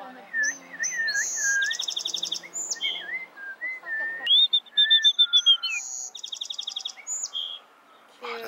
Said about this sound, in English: Say something, bird.